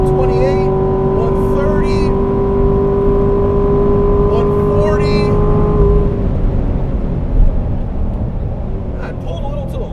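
A 2018 Corvette Grand Sport on a race track accelerates hard with a loud, steady engine drone that climbs in pitch, then lifts off, while someone talks over it from inside the car.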